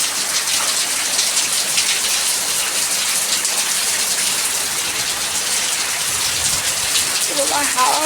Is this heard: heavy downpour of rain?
yes